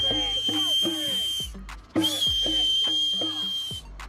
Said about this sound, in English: Blow the whistle if you love Donald Trump